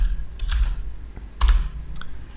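Someone types on a computer keyboard nearby, a few scattered clusters of sharp key clicks separated by brief pauses, with no talking.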